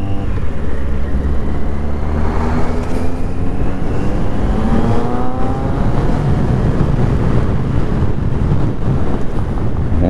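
An XJR 1200 motorcycle engine runs steadily while riding in second gear at 60 km/h, its low rumble mixed with heavy, constant wind buffeting the microphone, loud throughout.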